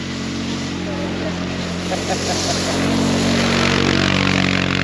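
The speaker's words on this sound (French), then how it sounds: "il doit être trop bien le mec en quad là" A quad bike drives past on a road near the end of the Americas, its engine drone steady and loud and swelling slightly toward the end, with wind and outdoor noise behind it.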